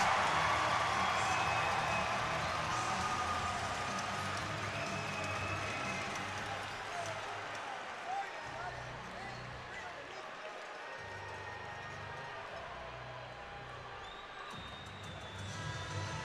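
A hockey arena crowd at a minor-league FPHL game cheering and roaring during an on-ice fight, a broad continuous wash of voices with a commentator talking over it.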